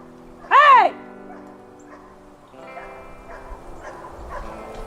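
Dogs squabble as bigger ones pick on a little dog: one sharp, loud yelp leads off, then softer whines and whimpers trail on at a distance, with faint voices murmuring underneath.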